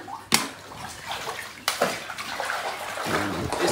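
Water with shampoo in a tub being stirred by hand for a dog's bath makes close sloshes and splashes in two sharper surges, then keeps gently swishing.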